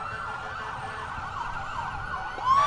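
Fire truck siren in a fall fair parade, a wailing tone sweeping up and down steadily over faint crowd and street ambience, moderately near and without talk.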